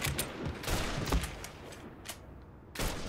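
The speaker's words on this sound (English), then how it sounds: "There's shots coming from way the fuck over there." Enemy gunshots in the open-world crime game Mafia III, fired from far away: a scattered volley of fairly faint cracks, a few bunched together, then a pause and one more burst at the end.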